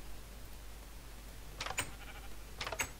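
Two short bleats from a sheep in Minecraft, game sounds spaced about a second apart, moderately close over a quiet steady hum.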